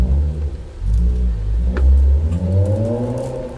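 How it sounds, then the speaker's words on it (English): A passing vehicle's engine revs and rumbles nearby, a loud low drone that swells and eases over a few seconds with no talk. "Sorry about that vehicle."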